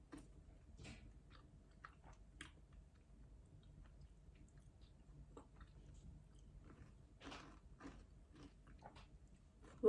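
Someone bites and chews giant oysters in close, faint, wet crunches and smacks scattered irregularly over a quiet background, with a louder bump at the end.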